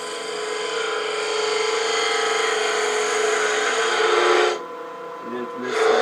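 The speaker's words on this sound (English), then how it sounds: "I'm going to come in there with this detail gouge just to make it a little easier" A detail gouge cuts a bead into spinning cherry burl on a wood lathe, a steady loud whirring scrape that abruptly drops off and then resumes briefly.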